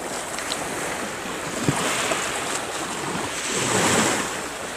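Sea waves wash against the shore in a constant broad surge that swells gently toward the end, with wind buffeting the microphone and no talk.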